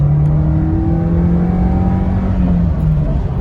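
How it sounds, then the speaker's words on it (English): A Nissan B13 SE-R sedan engine revs steadily and loudly, holding a high whining drone that rises slightly before easing off, close by with no talking. "It's just so fun to rev this car."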